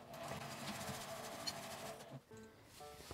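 A sewing machine stitches a lunch bag, a quiet steady mechanical whir with faint rapid needle ticking, pausing briefly before resuming.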